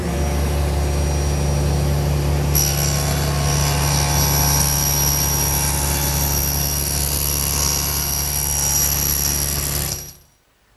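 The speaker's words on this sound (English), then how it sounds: "And I'll do that over at the table saw." A table saw cuts partway through a wooden leg for a full-length mirror frame in a woodworking shop. The blade gives a loud, steady, droning whine for about ten seconds, then cuts off sharply. No one talks.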